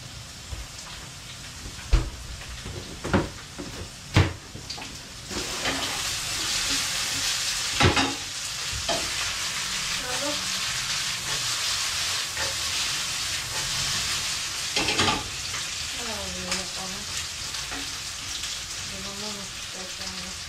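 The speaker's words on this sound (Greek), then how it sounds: "Ανακάτεψε τις πατάτες." Potatoes sizzle and fry steadily in a pan, broken by several sharp clatters of stirring early on, with faint chatter and a clink or two near the end.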